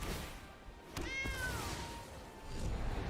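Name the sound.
cat meowing from cat token, Magic Arena video game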